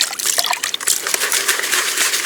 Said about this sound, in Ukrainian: І далі вже ще додаємо води.